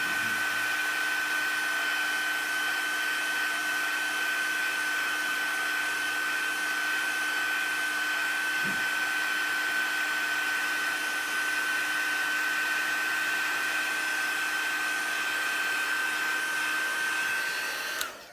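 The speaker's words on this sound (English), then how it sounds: "I'm gonna heat this up with the heat gun" A heat gun blows steadily on Brusho pigment sprinkles, a constant whining whoosh with a high tone running unbroken at close range, cutting off abruptly at the end.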